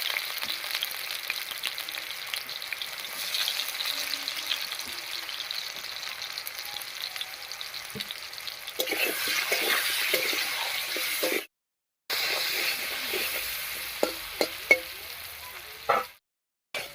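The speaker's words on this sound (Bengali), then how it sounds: "আলুটা ভাজা হয়ে গেছে" Potatoes fry in a pan in a steady, close sizzle that runs on alone, with brief stirring clatters toward the end and two short cuts to silence.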